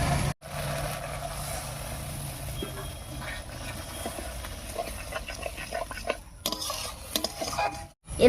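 Spices are stirred and braised in a pan for pabda fish curry. A continuous wet sizzle runs under irregular scraping and clattering of a spoon against the pan, broken by a couple of brief silent cuts.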